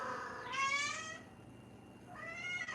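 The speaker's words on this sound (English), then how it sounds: "my cat's making noise" A house cat meows twice at night, a drawn-out rising cry followed by a shorter one, fairly close against a quiet indoor room.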